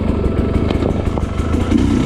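A Sherco dirt bike engine revs loud and close while being ridden, a rough, throbbing mid-pitched drone with quick surges and clattering pulses and no break across the whole stretch.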